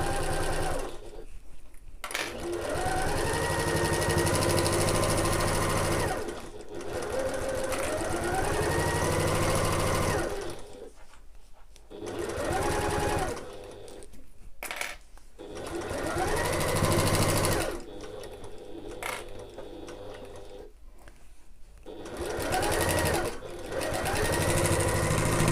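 A sewing machine runs a seam on a backpack with back stitching at the start and end, loud, close bursts of motor whir and needle chatter separated by short pauses.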